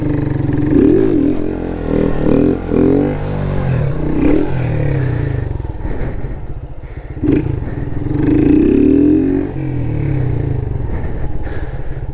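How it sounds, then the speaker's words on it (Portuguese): A Honda Start 160 motorcycle doing donuts, its engine revving up and down loudly and continuously at close range, with clattering and scraping mixed in. "Entrar no zerinho, tá ligado? Com a moto."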